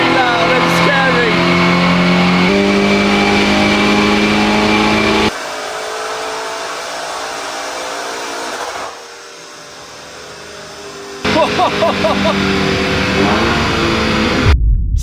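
A loud Lamborghini Urus engine roars and revs hard at high speed on a dyno run, drops away for a few seconds, then surges back up loud and steady.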